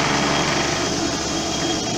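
A lathe spinning at 1360 RPM drills into a polyurethane bushing, giving a steady, loud, high whirring hum that holds unbroken throughout with no talking.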